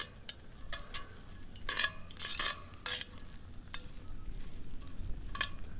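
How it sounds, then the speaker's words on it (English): Pecans fry in a pan with a faint, steady sizzle, broken up by several sharp scrapes and clinks of a utensil stirring against the metal, with no voices. "I can't tell if the sizzling noise I'm hearing is kind of coming from the pecans"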